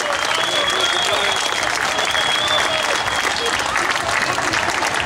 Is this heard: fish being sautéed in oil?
no